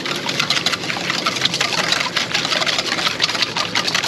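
Whole eggs whisked by hand for homemade ice cream base, a steady, dense scraping rattle of rapid whisk strokes against the bowl, continuous and close throughout with no talking.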